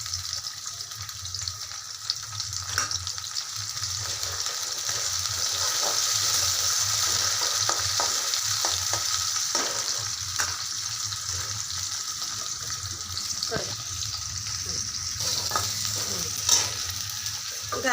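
Maggi noodles frying in a kadhai still oily from making anarse, with carrots and peas, a steady close sizzle under repeated scraping and stirring of a spoon against the pan, no voices.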